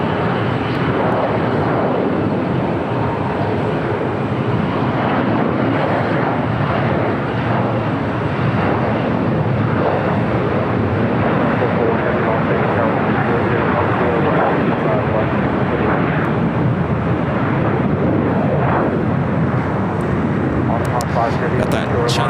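Jet airliners at LAX, including a China Eastern 777, make a loud continuous roar that fills the scene throughout, with talk running over it.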